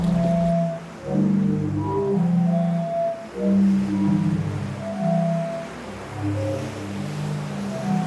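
The sea organ on the Croatian waterfront, with pipes set under marble steps, sounds as waves push air through them: overlapping low, breathy organ tones swelling and fading in irregular chords over a constant wash of surf and wind.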